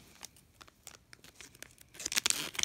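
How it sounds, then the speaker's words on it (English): A nail product package is torn open by hand with a few soft crinkles and rips at first, then a louder, sustained tearing burst near the end, close and fairly quiet overall. "Oh no, it looks like there's a little tear section on here"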